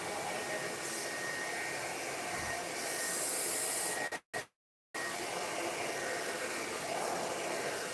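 A hair dryer blows in a steady, soft hiss while drying a man's long-on-top textured haircut, cutting out abruptly for about half a second before resuming.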